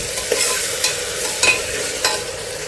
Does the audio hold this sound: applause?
no